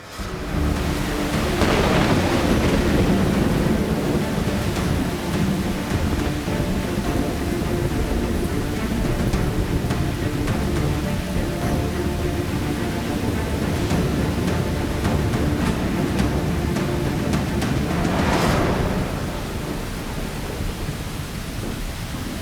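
Heavy monsoon rain pours steadily in Mumbai, a loud dense roar throughout, with rolling thunder swelling near the start and again toward the end; no voices.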